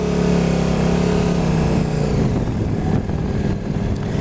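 A KTM RC8 motorcycle's engine accelerates hard, a loud rising tone that climbs for about two seconds before giving way to rough, gritty engine and wind roar.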